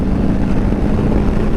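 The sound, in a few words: Harley-Davidson Sport Glide 2022 motorcycle engine revving with throttle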